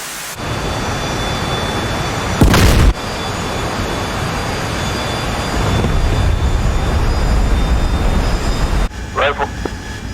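Bomb impacts in the combat flight simulator DCS, with jet aircraft noise as a constant loud roar, a sharp blast near the start, a heavier rumbling swell midway and another short burst near the end.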